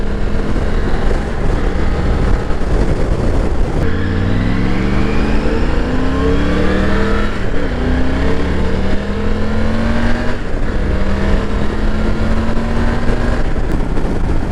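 Loud, steady roar of wind buffeting the microphone at highway speed on a Triumph Tiger 900 motorcycle, its engine droning underneath, pitch rising as it speeds up.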